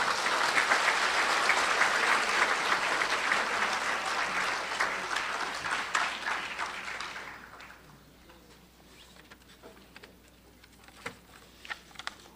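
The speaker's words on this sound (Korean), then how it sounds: "여러분 큰 박수로 맞아주시기 바랍니다" An audience applauds to welcome a speaker at a commemoration ceremony for the anniversary of the 10.4 inter-Korean summit declaration: dense, loud clapping for about seven seconds, then it thins to scattered claps and quiet room noise.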